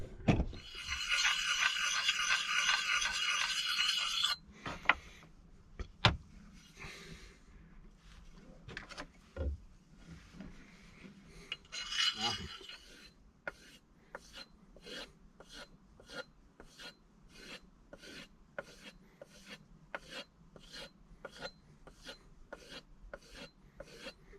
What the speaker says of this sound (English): use this on the axe just in a circular motion, give that a bit of a sharpen